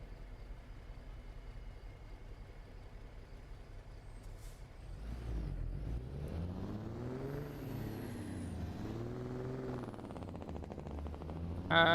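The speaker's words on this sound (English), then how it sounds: "Great truck sound. Yeah, it's a good engine, this one." A truck engine in the Euro Truck Simulator video game idles with a steady low rumble, then hisses from the air brake and revs up and down through gear changes, loud and close.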